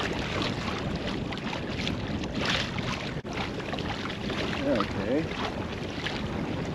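Hobie Outback kayak pushed by a Motorguide Xi3 trolling motor, a faint steady hum under wind buffeting the microphone and water noise, with a brief spoken word.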